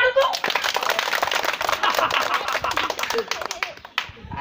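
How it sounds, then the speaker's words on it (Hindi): Children clap loudly and rapidly in a dense, crackling burst of overlapping hand claps, close and energetic, lasting a few seconds, with faint voices mixed in. "बच्चे लोग एक बार जोर से ताली मार दो।"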